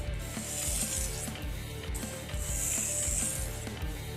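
A kitchen knife dragged repeatedly along a sharpener to work out burrs, giving a steady series of bright, scraping strokes close up with a rhythmic grinding undertone, no talking.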